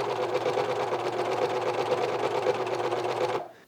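A sewing machine runs steadily while stitching the side seams of a garment, a loud continuous close whirring hum that stops abruptly at the end.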